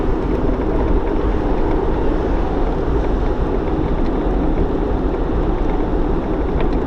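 A 1935 Packard Twelve convertible Victoria with a 473 cubic inch V12 runs steadily, a constant dense engine drone with a loud low-end rumble throughout and no voices.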